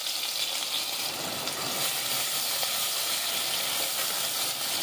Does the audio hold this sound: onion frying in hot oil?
yes